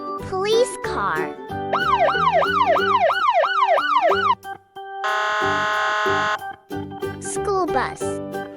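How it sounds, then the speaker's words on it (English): A cartoonish police car siren repeats a fast up-and-down yelp, then a steady buzzing tone follows, with chirpy electronic sweeps at the start and end, all loud and close. "Police car."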